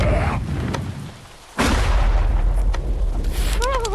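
Gunfire in the VR game Animal Company: a heavy burst of shots, then a sudden loud blast after a brief lull, with broadband crackle and a few higher synthetic tones near the end.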